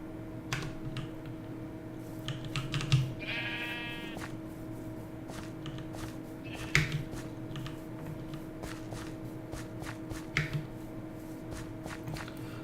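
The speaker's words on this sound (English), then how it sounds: "there's a lot of sheep" Sheep in a modded Minecraft world bleat in short digital calls, one drawn-out wavering bleat standing out among scattered quieter ones, over a faint steady in-game hum and soft clicks and footsteps.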